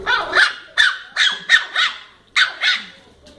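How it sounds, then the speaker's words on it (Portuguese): A dog, one of two playing together, barks loudly and close up in a quick series of about six sharp barks with short gaps between them. "isso, um latido forte"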